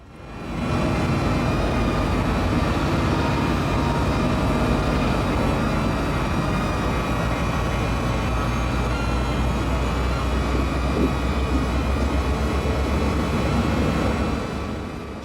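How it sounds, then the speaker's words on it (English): A westbound CN potash freight train led by SD-75 AC rebuild locomotives rolls past with a sustained, moderately loud rumble and a broad wash of wheel and rail noise that swells in, holds steady, then fades at the end. "Here we see a westbound CN potash train headed to the mines out in Saskatchewan with two new SD-75 AC rebuilds"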